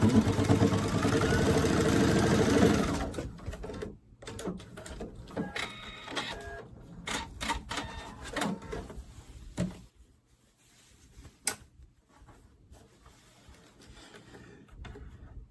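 A sewing machine stitches a messenger bag, running in a loud, steady mechanical whir for about three seconds, then falling to scattered clicks, taps and short bursts of motor as the fabric is adjusted.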